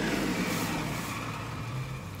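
A truck rumbles past on a road, a steady low engine drone that fades slightly as it goes by, fairly near and alone without talk.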